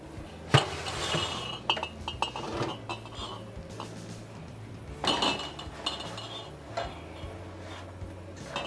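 Heated glass canning jars clink and knock together as they are handled on a kitchen counter, giving sharp scattered chinks with a couple of louder clusters.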